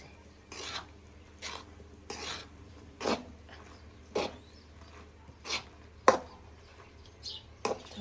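A spoon stirring a sweet ladoo mixture in a pot over the stove, about eight separate scraping strokes spaced roughly a second apart, close and moderately loud against a quiet background.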